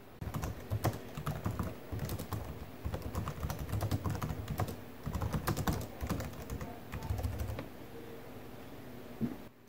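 Rapid, steady typing on the keyboard of a 2005 Dell Inspiron 1300 laptop, a close, continuous patter of key clicks running through almost the whole stretch with only brief pauses.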